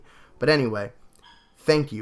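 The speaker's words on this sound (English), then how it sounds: "that was my dog in the background" A dog barks twice in the background, short sharp yaps about a second apart, while a person speaks.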